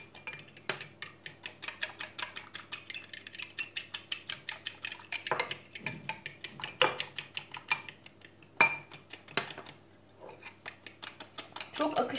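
A utensil beats a poğaça batter in a bowl while rice flour is added, making quick, rhythmic, close clicking and tapping strokes with a few louder knocks and short pauses.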